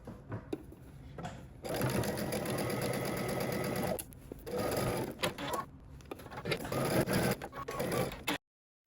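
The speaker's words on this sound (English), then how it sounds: "you're going to stitch using 5/8 of an inch seam allowance." A sewing machine stitching a dress facing runs in several bursts of rapid, even chattering, close and fairly loud, with brief pauses between runs and a quick stop at the end.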